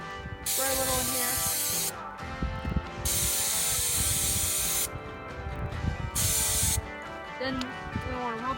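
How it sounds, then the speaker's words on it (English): Air filter cleaner sprays from an aerosol can into a dirt bike air filter in three long, close hissing bursts, with rustling and handling sounds in the gaps. "Spray a little in here."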